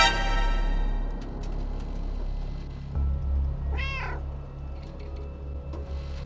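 A cat in a video game meows once, a clear rising-and-falling call over a low steady background hum and faint clicks, heard alone without talk.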